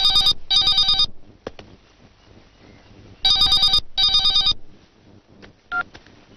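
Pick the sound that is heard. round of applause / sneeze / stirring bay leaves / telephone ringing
telephone ringing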